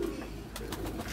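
Kalsare kaldume pigeons coo close by in low, steady, repeated calls, with a few soft rustles and thumps mixed in.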